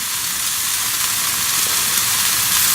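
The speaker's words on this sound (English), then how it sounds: "I'm just busy stir frying at the minute and I don't want to burn it." Food sizzling and frying in a pan during stir frying at a campsite, a steady loud hiss with soft stirring scrapes running throughout, no talking.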